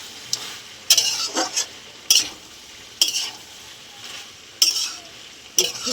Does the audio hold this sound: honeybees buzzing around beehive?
no